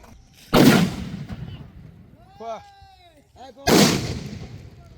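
Two loud firecracker bangs roughly three seconds apart, each with a crackling tail, and a brief voice in between.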